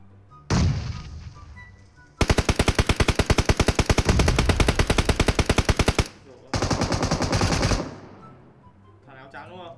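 Sustained automatic gunfire in the mobile battle royale game PUBG Mobile on the Sanhok map, loud, close, rapid-fire bursts of several seconds separated by short pauses, with a single shot at the start and players talking in between.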